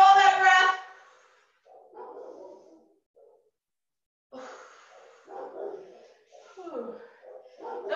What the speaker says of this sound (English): I don't know if you guys can hear my dogs.